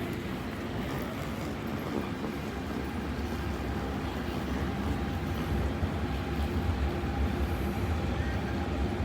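A steady, heavy rumble of a Hong Kong MTR train to Tung Chung rolling into Kowloon Station behind platform doors, continuous and fairly loud throughout.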